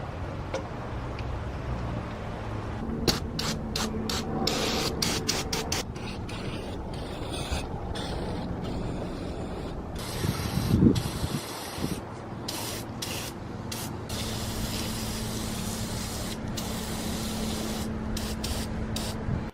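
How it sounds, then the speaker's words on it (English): Wrinkle-black spray paint hissing steadily from an aerosol can onto a degreased, sanded Honda B16A2 valve cover, a continuous close rush with short bursts and brief pauses between passes. "I'm going to wrinkle black this a nice coat of fresh paint"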